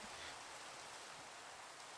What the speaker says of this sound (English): It's raining way too much.